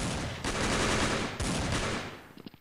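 A CZ machine gun in a video game fires in two long, loud, rapid bursts, then trails off into a few scattered single shots.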